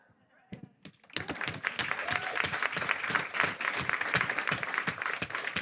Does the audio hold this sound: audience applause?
yes